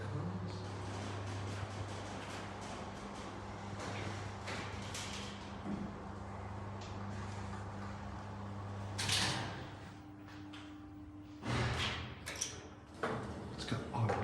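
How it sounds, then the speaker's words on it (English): A vintage J Pascual elevator in a Madrid apartment building hums steadily, then its automatic inner doors slide with soft mechanical rumbles and clatter, two separate bursts heard close by without talk. "It's got automatic inner doors."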